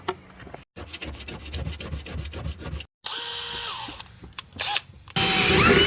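Small metal ground point on a 1989 Mercedes 190e being cleaned with a power tool: repeated short rubbing, grinding bursts close up, then a steadier whirring stretch, with brief pauses between passes.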